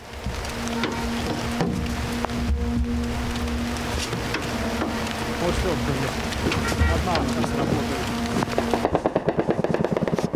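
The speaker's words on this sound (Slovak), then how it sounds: "v diaľke začneme počuť zvuk, ktorý pripomína motor mopedu" A distant drone engine drones steadily like a moped, buzzing through wind noise, with sharp rapid bursts of gunfire breaking in near the end, during the defense of Kyiv.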